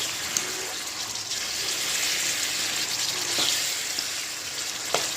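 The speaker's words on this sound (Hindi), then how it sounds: "ये देखें कितनी अच्छी तरह से मसाला भुन रहा है और चिकन भी अच्छे तरीके से भुन गया है।" Chicken and masala fry in a pan for a creamy palak chicken dish, giving a soft, even sizzle with a couple of faint clicks of a utensil, heard alone without any voices.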